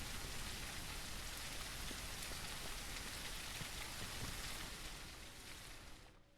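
Steady, dense rain pours down in an apocalypse survival video game, a continuous broadband hiss holding level before easing slightly and thinning out at the very end.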